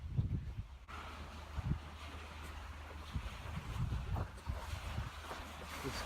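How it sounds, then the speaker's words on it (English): Gusty wind blowing across a lakeside beach on a trail in Ontario, Canada, a steady low rumble of wind noise hitting the microphone with brief stronger buffets, continuous throughout with no voices. "A little breezy"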